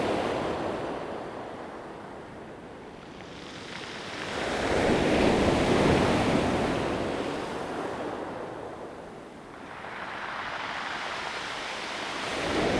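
Sea waves surging onto the stony shore at Garrarus beach in Ireland, two broad swells building and washing back across several seconds, with wind buffeting the microphone and no voices.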